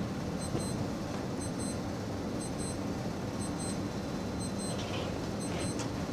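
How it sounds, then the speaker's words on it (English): Repeated electronic beeps in short bursts, thin and fairly faint, sounding at intervals over a steady background hiss in a room where watercolor painting is underway. "What's beeping?"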